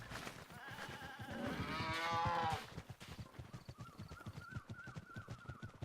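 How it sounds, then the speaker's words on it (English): A cow in the video game Zelda Breath of the Wild lets out one long, drawn-out moo near the listener, followed by quieter ambient farm sounds and soft footsteps. "Excuse me, cow?"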